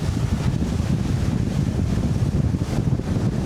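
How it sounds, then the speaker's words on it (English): A Beneteau Antares 12 Fly motorboat drives head-on into waves at mid-20s speed, giving a steady loud rush of wind buffeting and water noise with no talking. "Coming back through my waves now, I'm going to hit them in mid-20s, taking the waves head on."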